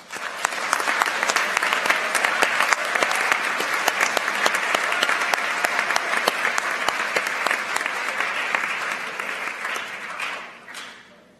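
A school awards ceremony audience claps for the students, sharp individual claps forming a sustained, moderately distant round that fades out near the end.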